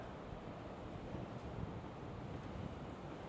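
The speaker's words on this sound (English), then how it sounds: "Oh, it's a bit windy today." Steady wind buffets the microphone in a continuous low rumble, with no voices or other distinct sounds.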